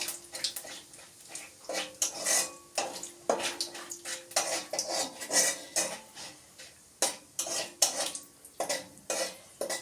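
A utensil scrapes and stirs cumin seeds in a pan with quick, irregular strokes, close by, over a faint hiss of frying oil.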